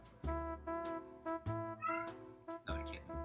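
A kitten meows several times in short, clear bursts, close and fairly quiet, with brief pauses between calls and no talk.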